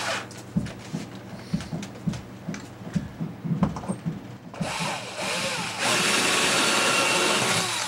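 A power drill bores shallow pin holes for a bridge installation, the holes just deep enough to hold a fixture. Scattered knocks and handling sounds come first, then the drill whirs in steadily, growing louder and constant toward the end.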